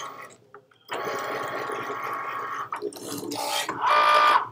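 A Cricut cutting machine works through a Valentine treat box project, giving a steady, close mechanical whirring hum with short pauses and a louder buzzing pass near the end; a room is quiet otherwise.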